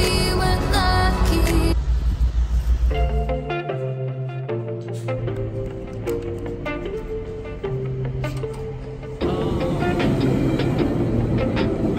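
A commuter train sounds at a station in Canada, a loud sustained rumble with shifting tonal whines and hums as it moves, the pitch stepping through several levels.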